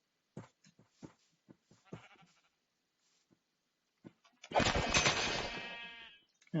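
Sheep in a Minecraft-style blocky web3 game, heard as a cluster of short clicky in-game taps followed by one loud, close bleat lasting about two seconds, with nobody talking.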